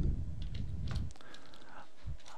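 Quiet keystrokes on a computer keyboard come in short irregular bursts of clicks, close by, with low background hum and no talking.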